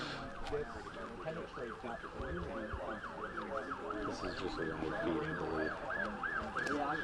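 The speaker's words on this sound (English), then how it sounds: "Police, ambulances continue to arrive on the scene here." Several emergency vehicle sirens wail in steady repeating up-and-down sweeps as police cars and ambulances keep arriving at the scene of a synagogue shooting in Pittsburgh, loud and continuous over a busy street background.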